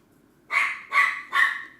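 A tiny dog gives three sharp barks spaced evenly apart, close to the microphone and loud against a quiet background, with no talking.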